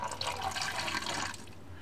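Fresh water pours from a tap into a container for a pet ball python. There is a brief splashing gush for about a second before it cuts off, close and fairly quiet.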